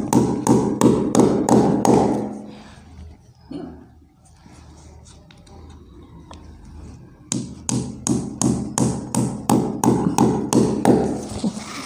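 Clips hammered into a wall or frame while putting up Diwali decorations: two rapid bursts of sharp, close tapping blows, each burst lasting about two seconds, separated by a quieter pause with faint handling noise.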